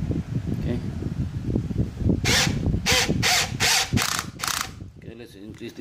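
Aneerpower 13mm cordless brushless hammer drill with its torque clutch slipping, giving several loud rapid ratcheting bursts in a row, mixed with handling noise and someone talking.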